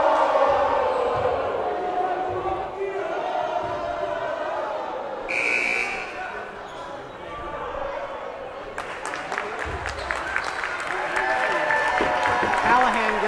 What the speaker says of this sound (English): gets a standing ovation from the South Hadley crowd, as he should